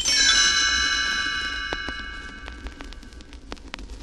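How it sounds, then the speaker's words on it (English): A bright page-turn chime from a Winnie the Pooh read-along story rings out and slowly decays, followed by a scatter of lighter tinkling strikes fading away. "You will know it is time to turn the page when you hear the chimes ring like this"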